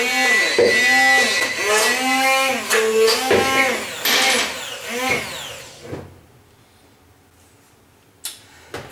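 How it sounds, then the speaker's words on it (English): An electric hand mixer creams butter for cupcakes, its motor whine rising and falling in pitch as the beaters work for about six seconds, then cutting off into near silence with a faint clatter at the end. "I have a hand mixer here."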